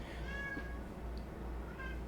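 A house cat meows twice, quiet and slightly distant, over a steady low room hum during a spoken commentary recording, with no talking in this moment.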